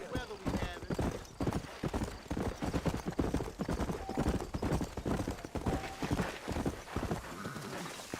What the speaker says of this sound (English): let's mount up and hit the trail